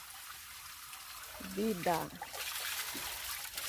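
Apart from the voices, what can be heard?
spring water flowing at the source of the Tietê river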